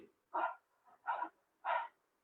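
A person in a yoga class imitates a dog's panting breath through the tongue, three short breathy huffs in an even rhythm, close and fairly soft with no talk.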